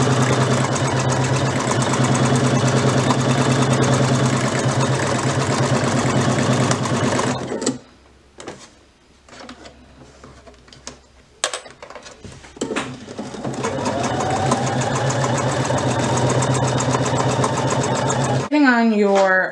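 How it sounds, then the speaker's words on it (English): Home sewing machine running hard through a bulky leather vinyl belt, a loud steady motor whir that stops midway for a pause with faint handling noises before stitching resumes; a person talks over parts of it. "this is pretty bulky for a regular home sewing machine"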